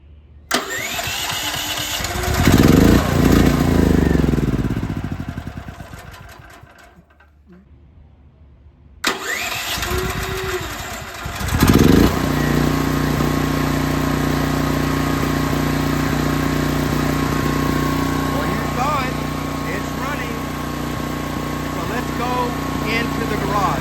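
A Duromax 13K generator running on natural gas cranks a few times, pauses, then fires up and settles into a steady, loud mid-pitched engine drone close by, with a voice talking over the start.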